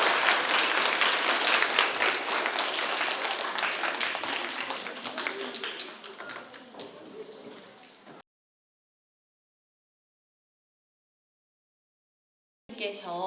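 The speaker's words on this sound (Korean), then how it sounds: "여러분들 약속한 의미로 박수로 끝내도록 하죠." Audience applause at a ceremony where a group chairman spoke: loud, dense clapping from a crowd that gradually thins and fades, then silence, and a voice briefly begins at the end.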